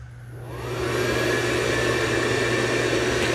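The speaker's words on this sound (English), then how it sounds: "And it will also boost the vacuum when it senses carpet." A Dreame robot vacuum runs on its suction after dropping its mop pads, a steady whirring motor drone that swells up in the first second and then holds loud and even, with no talk.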